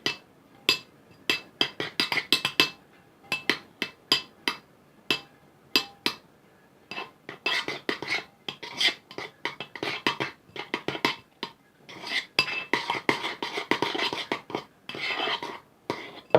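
Slime being stirred with lotion in a bowl: a utensil clicks and scrapes against the bowl in quick irregular bursts, some sparse and others in dense runs, close and fairly crisp with no talking.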